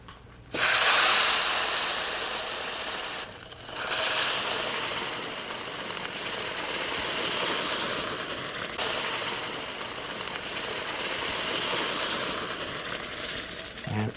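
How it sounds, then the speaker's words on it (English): Boiling water is poured in one go onto semolina grains in a hot pan, giving a loud rushing hiss and sizzle that keeps spluttering steadily. "And add the liquid to the grains"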